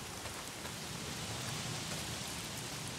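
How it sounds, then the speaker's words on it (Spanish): Rain pours steadily in the video game Days Gone, a dense, even hiss of drops on surfaces that fills the whole stretch without a break. "Si no son los Freakers, es la maldita lluvia. ¿Por qué siempre está lloviendo?"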